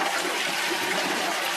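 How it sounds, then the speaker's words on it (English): A toilet flushing in a rustic farm-stay bathroom, a loud steady rush of water swirling and draining, heard alone at close range. "Flush toilet."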